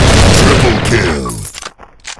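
TMP submachine gun fire in the video game Special Ops, a loud dense barrage of shots and booms that thins out and trails off into scattered fainter cracks.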